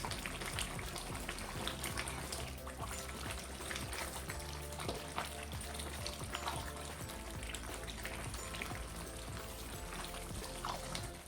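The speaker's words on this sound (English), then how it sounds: "Now I'm going to stir it" A pot of pondu, cassava leaves cooked with soft vegetables and smoked fish, bubbles and hisses continuously while a spoon stirs through it, with faint scraping and wet sloshing.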